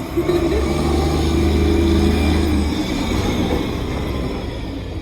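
A heavy cement mixer truck rumbles past nearby, a deep engine drone swelling and then easing away, with no speech.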